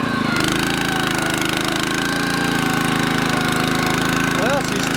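A Honda small engine runs steadily on a lawn topdresser spreading wet material, a loud continuous chugging drone with a faint whistle near the end.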